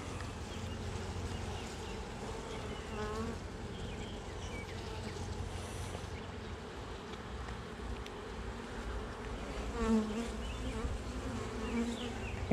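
Honeybees swarm and drone around an open hive during an inspection of brood frames with a strong laying queen, a dense continuous buzz close by that swells slightly toward the end.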